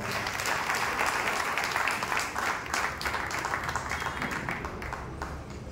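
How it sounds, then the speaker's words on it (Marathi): Audience at a Diwali magazine launch ceremony in Dhule giving loud applause as the mayor is welcomed, a thick, continuous wash of many hands clapping that holds steady then eases slightly, with no voices over it. "जोरदार टाळ्या जाऊ द्या"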